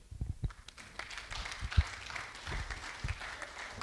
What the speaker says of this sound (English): Let's give him another hand of applause.